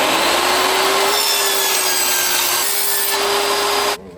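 A saw cuts through wood to make a boat tiller, a loud, continuous rasping stroke close by for a few seconds, ending abruptly as the cut stops.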